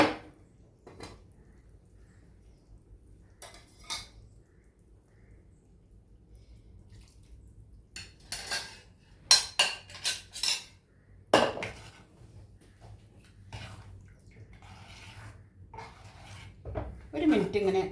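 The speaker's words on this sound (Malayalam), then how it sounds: "ഒരു മിനിറ്റ് ഇങ്ങനെ ഇളക്കി കൊടുക്കാം കേട്ടോ. ഒരു മിനിറ്റ് നന്നായിട്ട് ഇളക്കണം." A ladle scrapes and clinks against a pan while buttermilk curry (moru curry) is stirred, giving irregular bursts of close metallic knocks and scraping over a quiet background with light watery sounds.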